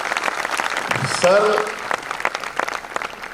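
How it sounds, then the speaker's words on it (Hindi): An audience at an Independence Day celebration applauds in a dense, steady patter that rises after a brief spoken word and continues under a speaking voice. "जोरदार ताली बजाएं"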